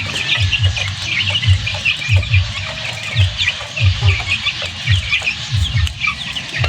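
Chickens in a homemade coop cluck steadily in close, rhythmic bursts, with brighter bird chatter and calls layered above throughout.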